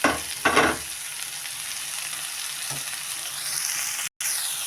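Chopped stinging nettle leaves drop into hot oil with a burst of sizzling, then a steady frying hiss with a stir or two.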